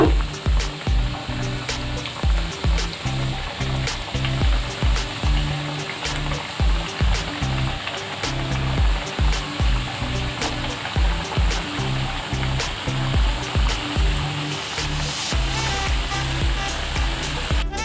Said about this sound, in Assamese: এতিয়া ইয়াত এটা এটাকৈ দি দিম। কম জুইত ভাজি ল'ব লাগিব।